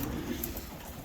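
Racing pigeons in a loft coo softly in a low, continuous murmur, faint and steady throughout.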